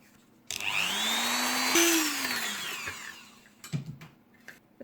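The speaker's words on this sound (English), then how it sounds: "I actually will grind these off" A rotary grinder cuts off suspension mounts on a small die-cast toy car, a loud steady whine that rises in pitch, dips briefly, then winds down, followed by a few scraping knocks.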